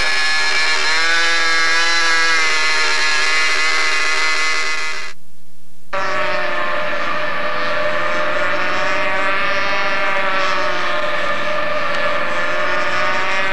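Model airplane engine with a freshly changed spark plug runs rough, a loud, close, sustained high-pitched buzzing whine that cuts out briefly and then resumes at a lower, uneven pitch, with no voices.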